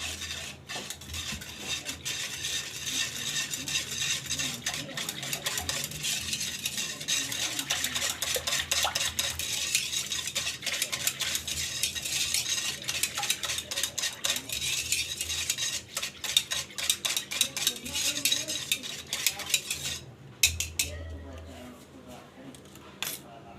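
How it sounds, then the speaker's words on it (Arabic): A spoon stirs milk and sugar in a metal pot at home, scraping and clinking steadily and fairly loudly for most of the stretch, then easing off near the end. "نحركو هاد الحليب مع هاد السنيده تذوب"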